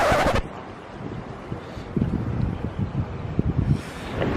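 A cool early-spring breeze blowing outdoors near the Peace Memorial Park in Hiroshima, a steady wind rush with buffeting against the microphone and a few faint rustles.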